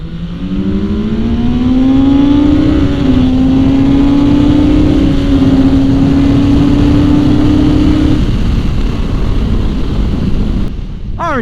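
A Yamaha XSR900 and a Kawasaki Z900RS motorcycle pull hard from second gear on a highway bridge, a loud engine note climbing steadily in pitch over heavy wind rush, then easing off near the end.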